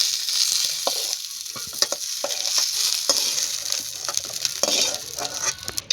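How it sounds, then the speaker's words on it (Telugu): Eggplants fry in oil in a pan with a steady, loud sizzle, close up, broken by stirring scrapes and small pops throughout, with no voices. "వంకాయలను ఆయిల్ వేసి బాగా వేపుకుందాం."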